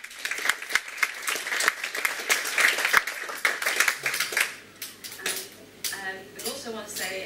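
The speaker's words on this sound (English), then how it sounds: "So can we give him a little round of applause?" An audience at the Aniridia Network UK annual general meeting gives a brief, sparse round of applause: scattered close claps that thin out, followed by a speaker resuming.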